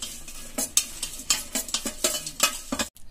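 French fries being mixed with chili powder, salt and pepper, heard as a quick series of close scraping, rustling tosses in an even rhythm, ending in a sudden stop.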